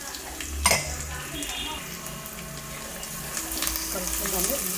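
Ginger garlic paste being stirred into onions and curry leaves in a pan for a besan biscuit curry, with scraping and clinking of utensil on metal over a low sizzle, one sharp clank early on.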